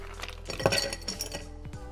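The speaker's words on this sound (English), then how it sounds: "Fill your highball glass with ice" Ice cubes tumble into a highball glass while a French 75 gin cocktail is made, a close cluster of clinks and rattles with a few scattered taps afterward over a low hum, with no talking.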